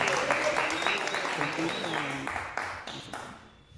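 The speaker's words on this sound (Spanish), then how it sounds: "Fuerte el aplauso que te escuche," Applause from a small crowd at a birthday celebration with a youth mariachi band in Colombia, a steady close burst of clapping that fades toward the end, with voices calling out over it.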